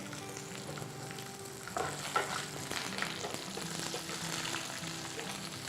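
Asafoetida sizzles in hot oil as a tempering for pulihora rice, a continuous close crackle. Faint stirring clicks and pops rise and fall through the sizzle, with no talking.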